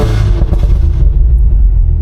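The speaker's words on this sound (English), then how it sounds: "Nice little pops and crackles, sounds amazing." An 800 hp Cadillac CT5-V Blackwing's exhaust rumbles loud and close with deep, uneven burbling and a few sharp pops and crackles, no voices present.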